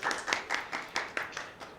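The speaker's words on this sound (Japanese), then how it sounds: "拍手をお願いします" Scattered hand clapping from a small audience at an AI aesthetics research seminar, about eight distinct irregular claps, fairly close and moderately quiet, with no voices.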